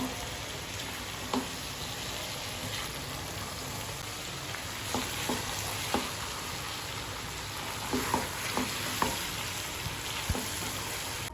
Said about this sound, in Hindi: भिंडी जो है गोश्त में अच्छी तरह से हमने मिक्स कर दी है